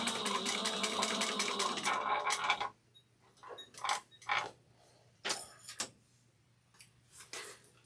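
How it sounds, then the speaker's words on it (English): A sewing machine stitches the side seam of a Nora bag in one rapid, close, continuous burst, followed by a few scattered mechanical clicks and creaks. "So I'm going to just sew over that part again to make sure"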